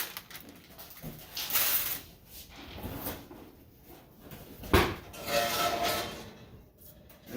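A cast iron pot of sourdough being slid into an oven, with clunks and a metallic scrape as the rack and door move, a sharp knock near the middle, quiet and close, with no talk.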